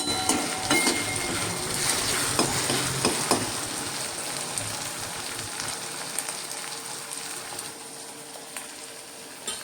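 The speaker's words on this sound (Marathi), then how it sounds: "याचा सुद्धा कच्चेपणा मरेपर्यंत ही परतून घ्यायची आहे." Dried lentil dumplings (sandge) are sautéed in a pan for a sandge vegetable dish, producing a dense frying sizzle with spoon-stirring scrapes that gradually quiets toward the end, with nobody talking.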